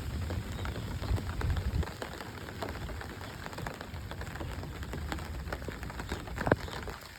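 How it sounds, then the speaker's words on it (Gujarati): Steady light rain falls on a rooftop terrace at a village farmhouse in Gujarat, a dense, even patter with scattered louder drops and no voices. "અને અત્યારે પણ વરસાદ ચાલુ જ છે ધીમે ધીમે"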